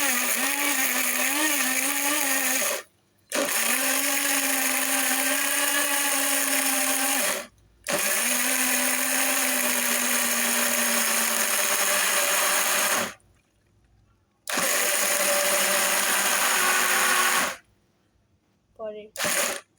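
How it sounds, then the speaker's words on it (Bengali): A mini blender whirs loudly as it blends watermelon into juice, running in long bursts of several seconds separated by short pauses, its steady motor tone dropping in pitch as the load changes. "আমাদের কিন্তু এটা মিনি ব্লেন্ডার সবসময় ইউজ করার জন্য"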